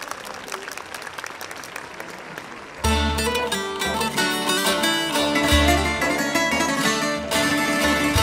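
Audience applause at a gala concert, light clapping at first, then music bursts in loudly and dominates over the crowd.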